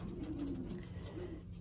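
Pigeons coo at a pigeon loft, a few soft, low, rounded calls close by, sounding alone without any talk.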